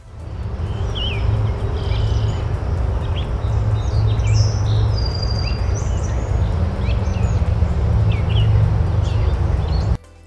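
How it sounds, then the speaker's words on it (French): Several birds chirp and trill high above a steady low rumble of ambient noise, calls scattered throughout with no one speaking. "le chant des oiseaux"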